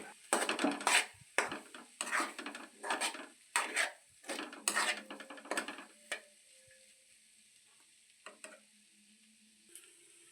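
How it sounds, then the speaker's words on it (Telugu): Beaten eggs with onions fry and get stirred in a pan, giving a run of loud, rhythmic scraping and sizzling strokes that thin out into a few sparse scrapes over a quiet sizzle. "ఇప్పుడైతే దీన్ని ఒక 5 మినిట్స్ ఫ్రై అవ్వనిద్దాం"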